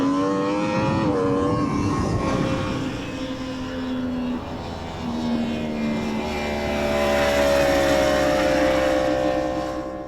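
A Yamaha R1 superbike's high-revving engine howls past, its pitch shifting up and down through gear changes, loud and steady.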